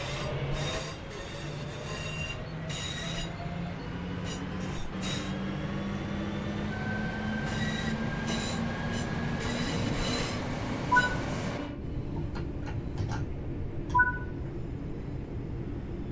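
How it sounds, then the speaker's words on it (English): A British Rail Class 323 electric multiple unit runs in Train Sim World 4, a steady rumble of wheels and motor with rising whine and faint squeal, heard close and continuous, then a few brief clanks near the end. "The British Rail Class 323 is an electric multiple unit passenger train designed by Hunslet TPL."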